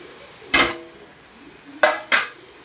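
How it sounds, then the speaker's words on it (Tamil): Raw chicken pieces dropped into a metal pan of ginger-garlic masala for a home-style chicken kuzhambu, giving three sharp clattering knocks against the pan with a final small tap, close and fairly loud over a quiet kitchen background. "நம்ம சிக்கன் எடுத்து வச்சுருக்கோம், அதையும் இது கூட சேர்த்துக்கலாம்"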